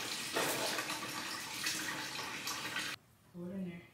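Water is poured into brownie mix in a home kitchen, a continuous splashing pour lasting about three seconds that then cuts off, followed by a brief voice.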